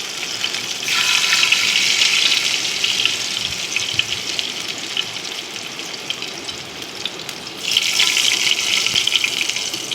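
Chopped ginger and garlic fry in a pan with a steady bright sizzle close by. The sizzle swells loudest at the start and again near the end, and no one speaks.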